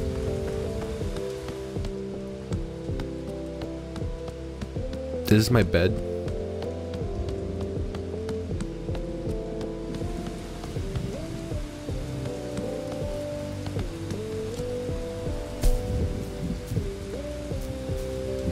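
Steady rain patters down in the video game Bugsnax as a soft, continuous hiss under game music and a voice speaking, with a brief louder burst partway through.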